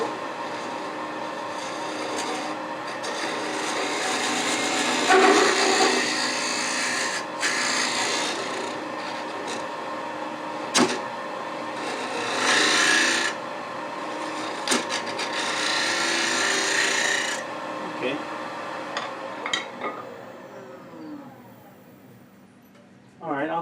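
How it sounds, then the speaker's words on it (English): A pointed detail tool cuts into spinning bubinga wood on a lathe, giving a steady close scraping rasp that swells and eases as it works deeper, with brief knocks and a quieter tail at the end. "I'll switch to a little pointier detail tool to get in there a little bit deeper"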